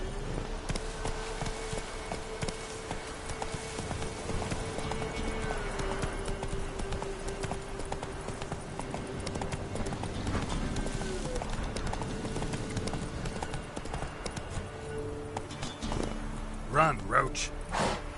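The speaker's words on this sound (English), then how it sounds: "Run, Roach" A horse gallops in The Witcher 3, rhythmic hoofbeats clip-clopping steadily under game music and ambient sound, with a brief burst of louder activity near the end.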